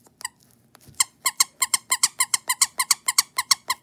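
The squeaker inside an orange Among Us plush toy gives a steady run of about twenty sharp, high squeaks in quick rhythm, close and loud, after a couple of faint starts.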